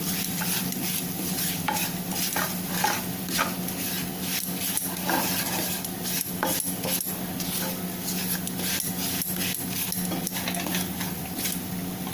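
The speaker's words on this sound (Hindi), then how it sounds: "नमक डालेंगे और इसको हम अच्छे से भून लेंगे" Samosa filling with black pepper and salt roasting in a pan for a halwai-style shahi kaju paneer samosa, a steady close sizzle with repeated scraping stirs and light clinks of a spoon on the pan throughout.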